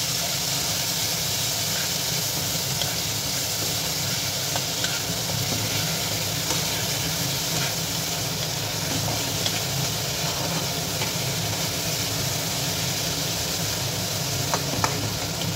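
Onion paste sizzles and fries steadily in a pan while being stirred, with a constant hiss and occasional scraping clicks, close and alone with no voices.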